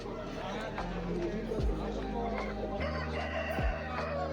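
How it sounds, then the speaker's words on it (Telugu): An Aseel rooster crows nearby at the Erragadda Sunday market, amid general farmyard and crowd murmur, with voices talking in the background. "కాకినా పుంజు ఇది"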